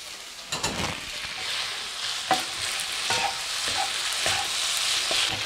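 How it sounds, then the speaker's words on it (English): Green onions stir-fried with chicken and ginger in a hot pan make a dense, continuous sizzle, broken by several sharp scrapes and knocks as the food is tossed around; no talking. "In with our green onions, give that a whiz round."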